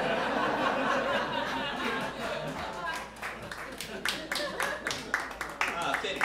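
Comedy club audience gives a steady round of applause with scattered clapping and a few chuckles, moderately loud and continuous throughout, without clear speech over it.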